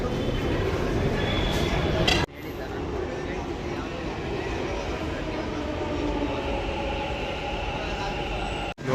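Bangalore metro train running from the last stop of the yellow line toward Majestic, a steady, loud rumble of wheels and cabin noise that fills the whole stretch, with a brief dip early on.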